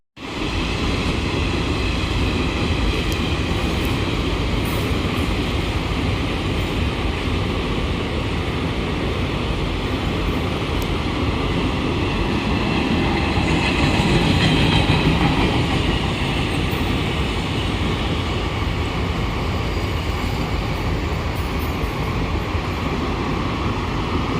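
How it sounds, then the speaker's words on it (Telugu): A train rolls steadily through Kothapalli junction railway station, a continuous loud rumble with faint wheel clatter holding for the whole stretch and swelling slightly midway. "ఇప్పుడు ఒక ట్రైన్ అయితే వస్తుంది"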